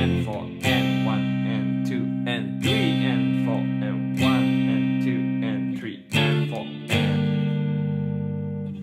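Guitar strums the intro chords of a song, each chord struck and left ringing in a slow, repeating pattern of five strikes, with a faint voice in the background.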